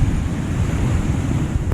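High ocean waves surge onto a rocky beach in Aurora Province, a dense, steady roar of surf mixed with wind buffeting the microphone, continuous and loud with no voices.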